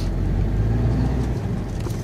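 A truck's engine rumbles low and steady as the driver pulls it over to the roadside, a continuous close drone with no voices.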